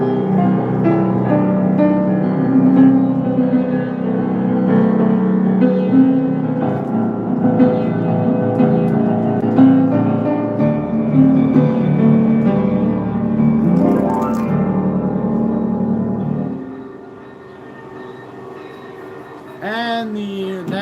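An out-of-tune piano plays a song with sustained, full chords over about sixteen seconds before dropping to a quieter passage, heard up close and alone without talk.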